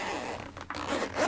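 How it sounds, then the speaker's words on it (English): The zipper on the bottom pouch of an ORCA OR-270 sound bag for MixPre 3 and 6 recorders being drawn open, a close, continuous rasping unzip lasting just over a second with a short pause partway. "the bottom pouch zips all the way off around this dimension of the bag"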